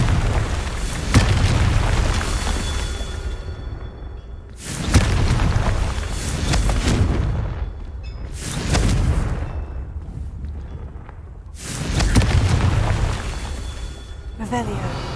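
Confringo fire spell blasts in Hogwarts Legacy, four loud booming explosions spaced a few seconds apart, each bursting sharply then rumbling away, with game sounds in between.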